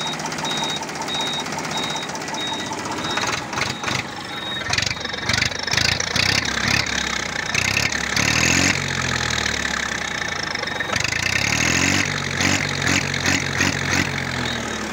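A used tractor's diesel engine runs outdoors, idling steadily with throbbing mid-range rumble and some rhythmic revving pulses midway; no speech over it.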